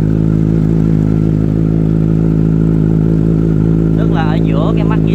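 Motorcycle engine idling steadily and close after chain lubricant is sprayed, a continuous low hum throughout with a brief voice near the end.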